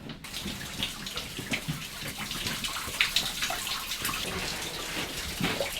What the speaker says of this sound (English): The sound of running water must have been very welcome to the miners